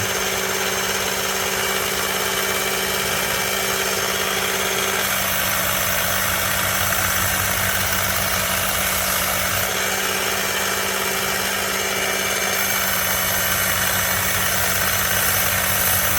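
A belt grinder running a fine 1200-grit belt to polish scratches out of a knife blade, a loud continuous motor drone with a steady abrasive hiss that shifts slightly in tone as the blade is worked, no talk.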